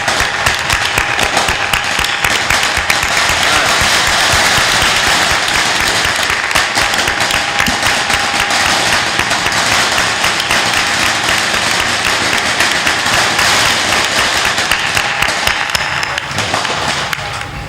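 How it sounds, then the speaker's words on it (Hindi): Sustained applause from a live audience at a spiritual discourse by a sant in an ashram, dense, steady clapping filling the room for the whole stretch without talk. "ताली बजा दो"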